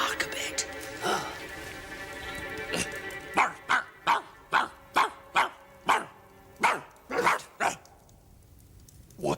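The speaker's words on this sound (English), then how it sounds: "Come here and bark a bit." A dog barks in a steady run of about a dozen loud, close barks over its last six seconds, following a stretch of music and background sound.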